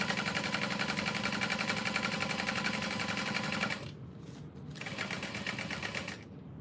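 A sewing machine runs steadily while stitching a zipper into a tote bag, a fast even buzzing hum that drops off, restarts and stops again near the end, close and alone.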